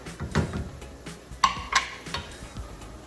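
Chopped garlic tossed into a pan beside Italian sausage and mushrooms, then stirred with a utensil: a few sharp scrapes and clinks against the pan at close range, with a faint sizzle underneath and no talking.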